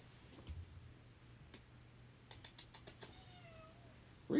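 A cat meows indoors, a short drawn-out call, faint and somewhat distant, after a run of light keyboard-like clicks and before a loud thump at the end.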